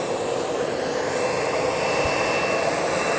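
A Jetstar Airbus Neo airliner at Fukuoka airport produces a steady, broad jet-engine roar that holds at the same level with no pause, and no voices.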